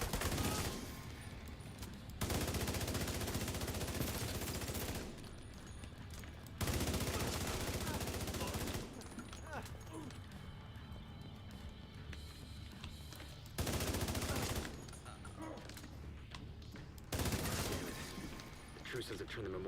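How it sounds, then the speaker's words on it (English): Gunfire from The Division 2 on PC. Loud bursts of rapid automatic fire repeat several times, separated by stretches of quieter in-game noise. "Put an entire magazine into that fucking guy and I can't even get the headshot kill."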